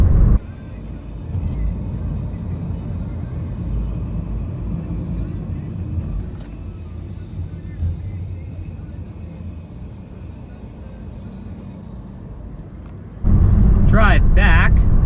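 A car driving along a hazy road, a steady low engine and road rumble heard from inside, ending in a louder burst of noise near the close with voices.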